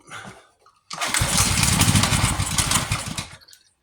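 A small gasoline engine on a pressure washer, freshly primed with carb cleaner, catches after a brief pull and runs loud and rough for about two and a half seconds before sputtering out.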